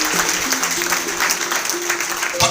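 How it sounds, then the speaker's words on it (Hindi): Audience applause fills a live talk about getting rich, a dense sustained patter of clapping from a crowd over a steady hall bed, with some faint voices mixed in. "ताली बजा लेनी"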